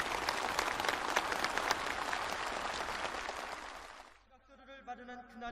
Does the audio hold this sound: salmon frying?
no